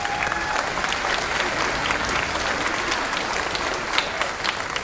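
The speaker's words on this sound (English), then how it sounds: "Give them a round of applause." Elementary band concert audience in a school setting gives a dense, continuous round of applause for the Hamilton High School jazz band, many hands clapping at once, loud and even throughout with no talk.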